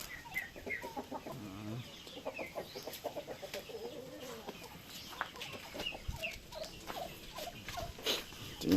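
Turkeys and chickens cluck softly and repeatedly at close range, a busy stream of short, rhythmic calls with the occasional sharper squawk.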